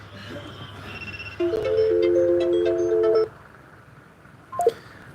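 A mobile phone ringtone plays a short electronic tonal melody for about two seconds, loud and clear over a quiet room during a spiritual lecture, followed by a faint brief sound.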